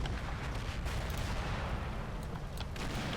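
Gunfire from a PSW 222 armored car in the World War II game Combat Mission Final Blitzkrieg, a quiet, dense battle soundscape with sharp shot transients scattered over a constant low rumble of distant fire.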